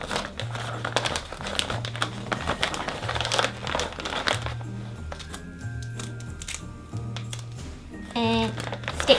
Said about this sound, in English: Now I'm going to wrap up my Christmas cracker.